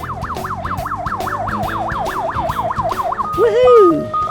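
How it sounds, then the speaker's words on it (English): A wailing emergency siren sweeps rapidly up and down over engine rumble, then shifts to a different siren tone near the end. Close and loud. "To turn on the flashing lights and sirens, he presses these buttons."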